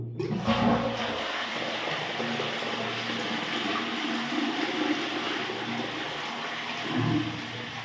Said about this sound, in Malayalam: ഇനി നമുക്ക് ഫ്ലഷ് വർക്ക് ചെയ്യുന്നുണ്ടെന്നുള്ളത് ചെക്ക് ചെയ്യാം